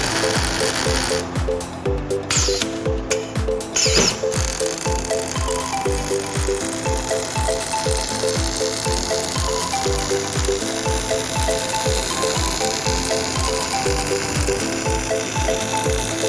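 An automatic welding machine working on a transformer oil tank gives a steady crackling sizzle with a regular mechanical ticking beat running underneath, loud and continuous throughout.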